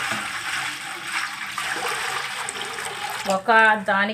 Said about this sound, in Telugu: గిన్నెలోకి నీళ్ళు అయితే తీసేసుకుంటున్నాను.